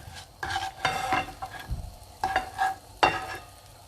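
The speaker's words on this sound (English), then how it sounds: "While we are cooking the garlic off there" Garlic cooks in a pan with soft sizzling, broken by several bursts of scraping and stirring against the pan, moderately close and fairly quiet.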